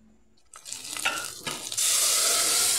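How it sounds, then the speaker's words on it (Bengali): Whole spices and turmeric for dal tempering fry in hot ghee, starting from near quiet, building through a few crackling bursts, then settling into a loud, steady, bright hiss of sizzling, with no speech. "সব দিয়ে ফোড়নটা বেশ কড়া করে ভাজা হচ্ছে।"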